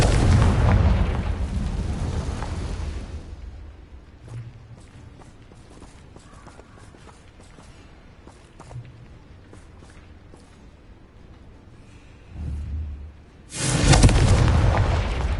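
Two loud, broad blasts of Confringo fire-spell explosions from Hogwarts Legacy, one at the start and one at the end, with quieter thuds, clicks and footsteps in between.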